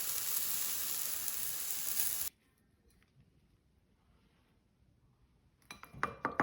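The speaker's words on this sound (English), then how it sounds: "now let's remove them from a frying pan onto a serving dish" Sauteed shiitake mushrooms sizzle loudly in a frying pan for about two seconds, then a quiet pause gives way to a few light clinks and scrapes as they are moved from the pan onto a serving dish.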